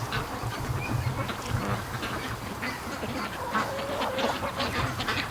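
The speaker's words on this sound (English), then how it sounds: "Just look at the ducks everywhere." A free-range duck flock quacks and chatters nearby in scattered, overlapping calls, with rustling and soft buzzing underneath throughout.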